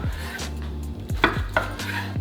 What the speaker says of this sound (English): Get some nice cuts and strips out of that.